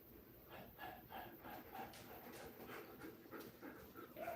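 A dog named Daphne pants in a quiet, steady rhythm of quick breaths, close by against a faint background hiss.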